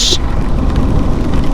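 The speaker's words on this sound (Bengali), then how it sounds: "আর পুরা দমে বৃষ্টি" Heavy rain pours down during a ride on a modified Gixxer motorcycle, a dense close hiss of rain and wind noise with a low rumble underneath.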